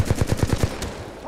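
Rapid automatic gunfire from the video game Titanfall 2, about six sharp evenly spaced bursts in quick succession, loud and close, then trailing off into quieter ambient game noise.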